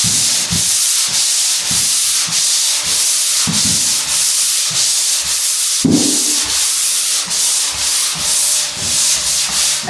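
A hand sander scrapes back and forth along a drywall butt joint at an angle, making loud, close, rhythmic abrasive swipes at a steady pace with no voices.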